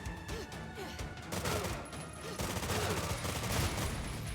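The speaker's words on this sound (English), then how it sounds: "We get our Weapon upgrade. machine gun. That chain gun." Chain gun firing in the side-scrolling game Terminator 2D: No Fate, a dense, continuous burst of rapid automatic fire with crashing impacts, loud and sustained throughout under busy game sounds.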